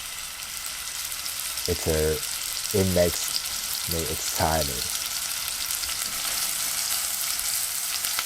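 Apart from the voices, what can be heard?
pork grilling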